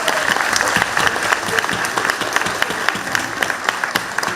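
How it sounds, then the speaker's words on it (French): An audience in a concert hall applauds singers at a children's rights concert in Tremblay-en-France, a dense sustained clapping with scattered sharper claps standing out, loud and continuous. "on les applaudit très très fort"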